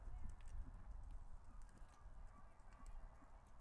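Horse hooves trotting on an arena surface during a dressage clinic, a quiet rhythmic run of soft thuds with faint background noise, fairly close.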